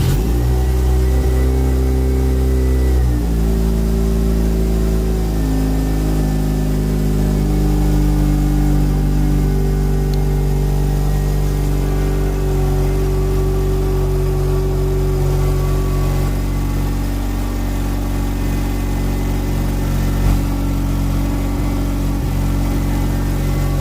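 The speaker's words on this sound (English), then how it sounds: "Alright guys, let's go start the engine." A Mazda RX-7 FD rotary engine catches and revs briefly, then settles into a steady, loud idle hum that drones on for a long stretch with no talking.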